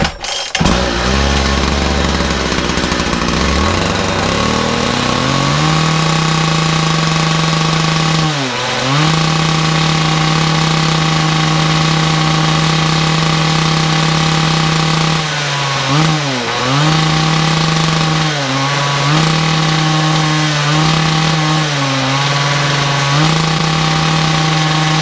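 The petrol engine of a Makita DPC6430 disc saw starts with a brief rough catch, then runs loud and close, its pitch dipping and recovering several times as it revs unevenly.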